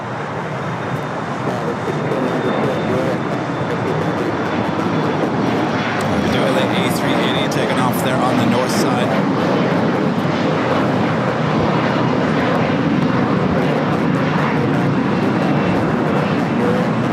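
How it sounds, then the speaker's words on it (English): A Korean Air A380 jet bound for Seoul takes off from LAX in a sustained, powerful engine roar that stays loud and even throughout, with people talking beneath it. "This is Korean Air Flight 18 taking off to Seoul on the A380."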